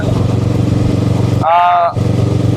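A Kawasaki ER6N motorcycle engine drones steadily and loudly while riding toward Jatiluwih, with a brief tonal sound cutting in near the end before the engine hum resumes.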